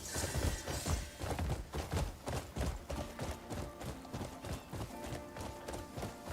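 Hooves of a horse galloping in the video game Crimson Desert on PS5 Pro, a steady rapid thudding rhythm that runs the whole time at moderate level with no talk over it.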